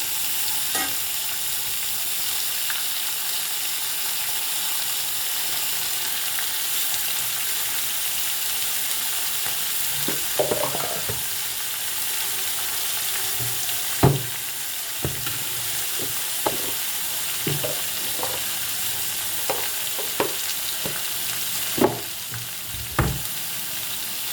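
Cabbage, carrot and beans fry in a pan for a paneer curry, a constant close sizzle broken by scattered scraping knocks of a spoon stirring the vegetables, louder clacks near the end.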